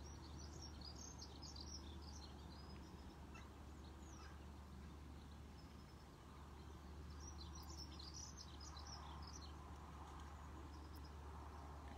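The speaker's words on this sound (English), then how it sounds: "And just hearing the songs of the birds, how beautiful they are." Faint birdsong outdoors: scattered chirps and short calls come and go over a low, steady background hum, distant and quiet throughout.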